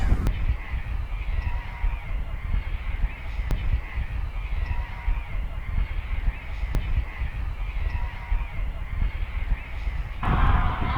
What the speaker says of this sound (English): The first birds to leave the mud flats are the grey-legged geese